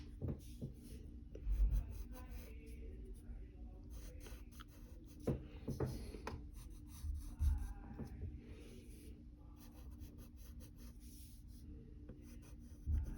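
Pencil strokes scratch across paper while sketching the hair of the cartoon character Velma from Scooby-Doo, a steady soft rubbing and scribbling with small louder bursts, close and alone with no talk.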